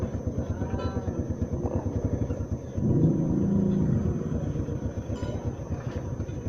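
Motorcycle engine idling and rumbling nearby on a street in Old Sauyo, with a steady pulsing throb that swells briefly in the middle as it is moved out.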